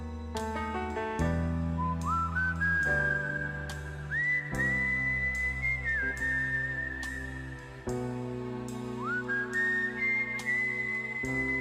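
Melodic whistling carries a tune over a backing track in a hidden track, clear and sustained with gliding notes, in two phrases separated by music alone.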